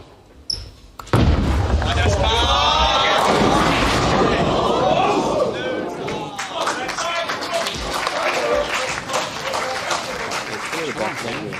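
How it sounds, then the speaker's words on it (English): A large crowd at the 2021 Weber Cup bowling match erupts into loud, sustained cheering and roaring right after a brief thud, the noise staying dense and excited throughout, with some talk mixed in. "Just listen to the crowd. Muted."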